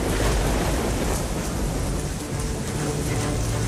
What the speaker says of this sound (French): Au cœur de l'hiver, la tempête approche.